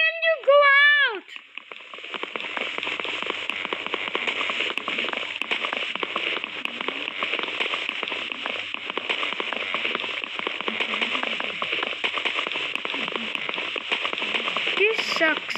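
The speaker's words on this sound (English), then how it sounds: "Now it's raining." In Minecraft, steady rain hisses and patters over the whole scene, a dense continuous crackle of drops after a short musical game tone at the start.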